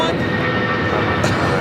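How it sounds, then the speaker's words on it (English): A United Airlines Boeing 757-300 takes off at Los Angeles International Airport, bound for Denver, producing a steady, broad engine roar with no gaps. A voice talks over it throughout. "1260 taking off to Denver on the 757-300"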